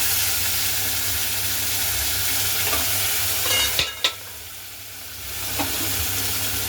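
Pabda fish is stirred with spices in a hot pan, making a continuous oily sizzle with a few sharp scrapes and clatters of the spoon midway, close and moderately loud, with no voices.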